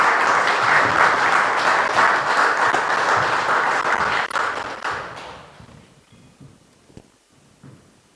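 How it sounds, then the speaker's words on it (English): An audience applauds for Jules Sprake at a talk, the dense clapping loud at first, then fading away over several seconds until only a few scattered claps remain near the end. "So a round of applause for Jules Sprake,"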